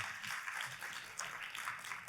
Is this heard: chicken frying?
no